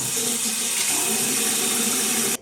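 Tap water runs steadily from a bathroom faucet while a face is wetted during a nightly washing routine, a loud, continuous close-up gush that cuts off abruptly at the end.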